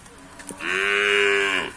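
A native northern Thai cow moos once at a cattle market in Nan province, a loud, close, drawn-out low call rising and holding for about a second, over faint background noise.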